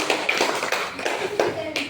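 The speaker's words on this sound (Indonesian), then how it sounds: "kita kasih tepuk tangan untuk kelompok 2" Brief, uneven clapping from a small group in a classroom training session, applauding a student group; scattered hand claps and taps in a short burst.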